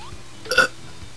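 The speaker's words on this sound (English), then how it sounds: "Let's take a major burp." A single close burp, short and guttural, rising over a faint steady background hum before fading quickly.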